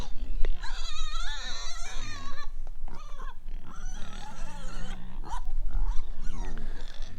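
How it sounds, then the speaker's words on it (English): Pigs on a farm squealing and grunting loudly in anticipation of food, a dense, continuous chorus of high, wavering animal cries close by. "Pigs are always noisy when it's dinner time, or when they think it's dinner time."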